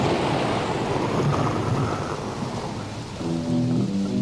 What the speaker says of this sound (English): We got to put in some rain and thunder.